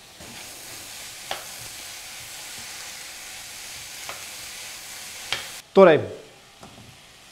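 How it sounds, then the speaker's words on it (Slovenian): Vegetables stir-frying in a pan with olive oil and sesame give a steady, soft sizzle with a few small clicks of stirring. A single spoken word follows near the end. "zelenjava se bo vsak čas prepražila"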